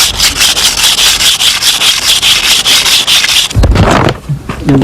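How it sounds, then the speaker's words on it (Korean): A bamboo arrow shaft is rubbed by hand back and forth inside a grooved split-oak block packed with wet sand, giving a loud, steady rhythmic gritty scraping that runs for several seconds before breaking into a few irregular knocks and handling sounds. "치죽을 넣어서 양손으로 서로 잡아 비빈다. 그러면 홈 안에 있는 물모래로 인해서 힘차게 사포질이 된다."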